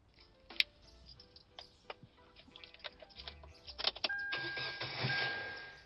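A car engine is cranked with a run of ticking clicks and clatter, then catches and settles into a steady idle, moderately quiet, with no talking.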